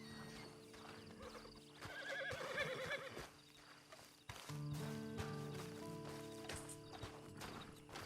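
A horse in the Red Dead Redemption 2 video game neighs and its hooves clip-clop at a walk, fairly quiet, alongside light creaks and other game sounds.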